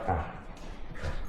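Shop dog giving a couple of short yips and whimpering barks close by, in a workshop with wind noise in the background.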